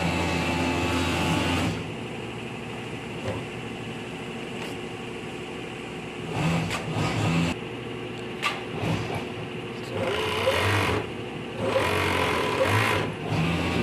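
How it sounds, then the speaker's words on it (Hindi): Industrial sewing machines stitching garments in a Tirupur factory give a steady mechanical whir with bursts of faster running, heard close amid continuous workshop hum, no talk. "देखिए आप लोग कैसे ये सिलाई कर रहे हैं।"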